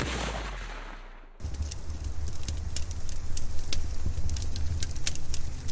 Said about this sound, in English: it sounds like any normal crackling fireplace